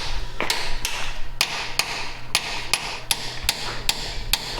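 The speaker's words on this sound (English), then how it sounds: "Now we can get up inside here with a chisel and we can get these freeze plugs out." A hammer strikes a chisel against engine freeze plugs in the block of an abandoned 1969 Dodge Charger. The metallic hits come one at a time at a fairly steady pace, about ten sharp close blows with no talk.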